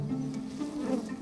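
Bees buzzing steadily at the entrance of a garden beehive, a close, continuous droning hum of many insects with no talk over it.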